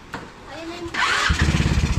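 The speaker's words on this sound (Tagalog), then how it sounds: "Maandar na yan." A restored motorcycle engine, once burnt in a fire, cranks with a brief whine and then catches, settling into a close, steady, throbbing idle.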